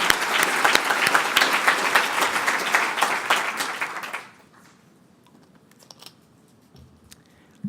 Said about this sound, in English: please offer a round of applause for them